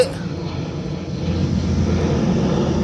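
Fighter jets flying low over a village, a loud, steady engine roar that swells slightly and fills the whole clip without talk.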